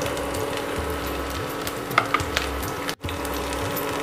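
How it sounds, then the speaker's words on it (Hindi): Finely chopped garlic, ginger and green chili sizzle steadily in hot oil, a close, even frying hiss with a few light stirring clicks and one brief cut-out near the end. "तेल गर्म हो गया है, 1 चम्मच बारीक कटा हुआ लहसुन ऐड करते हैं, 1 चम्मच बारीक कटा हुआ अदरक ऐड करते हैं"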